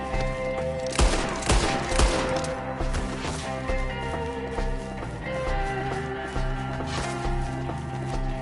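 Gunfire in Red Dead Redemption 2, sharp rifle and pistol shots cracking irregularly amid ongoing shooting and background game noise.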